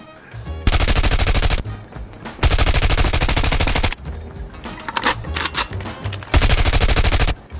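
A RUS-79U submachine gun fires in Call of Duty: Mobile, loud sustained automatic bursts of rapid shots separated by brief pauses, with no talk over them.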